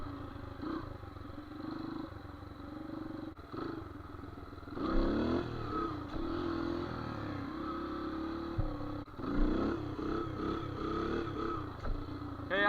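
A dirt bike engine revs and holds in second gear during a wheelie, rising and falling in pitch with clattering mechanical noise, fairly close and without talk.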